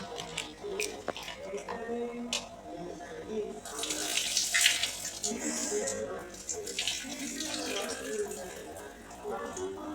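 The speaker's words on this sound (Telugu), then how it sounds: "సాల్ట్ వేసుకొని వాష్ చేసుకోవాలి ఫస్ట్" Tap water runs and splashes over raw chicken being washed with salt for biryani in a kitchen sink, a steady close gurgle that swells in the middle, with a voice talking over it.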